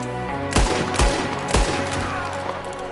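Gunfire in a Red Dead Redemption 2 shootout: several sharp, loud shots crack at uneven intervals, about five in three seconds, over a steady hum of game ambience.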